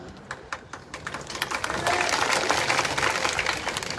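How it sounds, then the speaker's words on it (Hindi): Applause from the audience at a political rally during a large road show, starting as a few scattered claps and swelling into sustained loud clapping from a crowd. "आपने ताली बजा दी"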